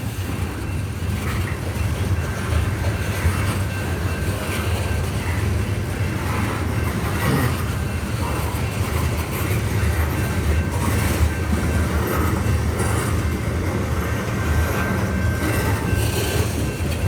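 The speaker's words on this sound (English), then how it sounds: "The train really is going slow." A CSX coal train rolls slowly past in Mount Airy, Maryland, a steady loud rumble of wagons with faint clicking wheels and a thin high squeal running throughout.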